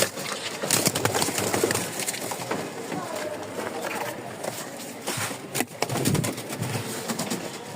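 Giribaj pigeons coo softly at a pigeon sale in Mirpur, Dhaka, under and between people's talk and handling noises nearby.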